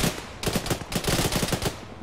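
Gunfire in Arma during a ShackTac session: close, loud shots come in irregular clustered bursts with short gaps, and nobody speaks.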